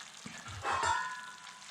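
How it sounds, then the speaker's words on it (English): Chicken with onions for Salvadoran pollo encebollado simmers in a pot on lowered heat, giving a faint, steady sizzling hiss that swells briefly near the middle, with no voices. "we're going to bring the heat all the way down so we can set this to a simmer"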